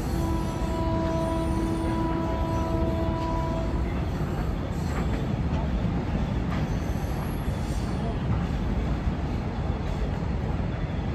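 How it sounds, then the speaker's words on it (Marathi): A train rumbles steadily past a railway level crossing, a dense continuous roar of wheels on rails, with a long horn-like tone sounding near the start. "बघा ट्रेन जात असेल तुम्हाला दिसते आहे म्हणून आम्ही फाटकावरती थांबू"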